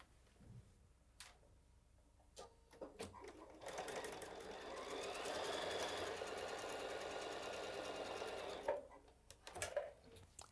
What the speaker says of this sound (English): And I'm going to go sew that.